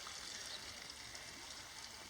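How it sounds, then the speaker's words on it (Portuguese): Water drips and trickles from a shower fed by a rooftop water tank, a faint steady patter with a soft hiss and no talking. "Já tá pingando já"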